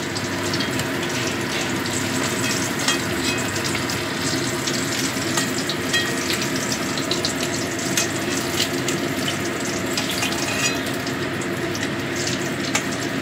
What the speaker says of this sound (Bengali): ডিমগুলো আমার ভাজা হয়ে গেছে, এবার আমি তুলে নিচ্ছি।